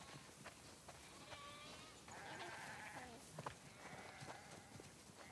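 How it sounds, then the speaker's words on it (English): Sheep on a farm in The Last of Us Part II bleat several times over a few seconds, some overlapping, at moderate distance over steady ambient noise, with hooves clopping in places. "Wow, that's a lot of sheep."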